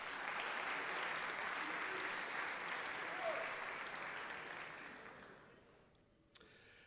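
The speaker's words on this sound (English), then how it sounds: "Let's give him another round of applause" An audience claps steadily at a college athletics event, a warm, sustained round of applause that fades out near the end, followed by a single sharp knock.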